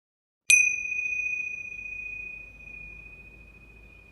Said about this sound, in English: I close the puja officially with the gong again